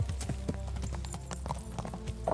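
Horse hooves clip-clop in a steady, close rhythm for the whole stretch, moderately loud with no talk over them.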